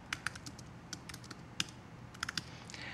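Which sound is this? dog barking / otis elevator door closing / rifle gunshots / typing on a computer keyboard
typing on a computer keyboard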